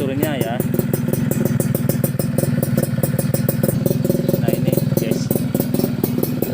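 A Yamaha F1ZR motorcycle with original Yamaha parts runs with a steady, close engine rumble and mechanical clatter, while someone talks over it throughout.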